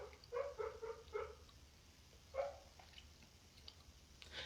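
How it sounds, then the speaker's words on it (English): A sleeping dog makes soft whimpering yips while dreaming: a quick cluster of four faint, high squeaks, then a single one after a pause, heard close in a quiet room. "You hear my dog dreaming?"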